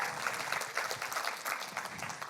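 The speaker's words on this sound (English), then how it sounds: "Give Tom a round of applause." An audience at a talk on building a culture of feedback applauds a volunteer, giving a dense, steady burst of many hands clapping at an even loudness throughout, with no speech over it.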